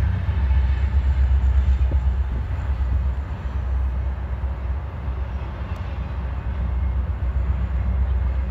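A CSX freight train passes through Berea, Ohio, its heavy rail rumble loud, close and steady from start to finish with no voices.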